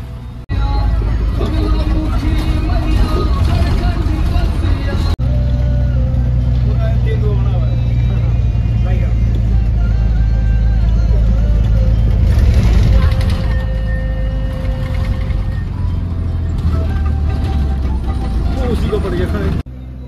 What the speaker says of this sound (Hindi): ये सामने से आ गई उत्तराखंड परिवहन निगम की टनकपुर से शिमला जाने वाली गाड़ी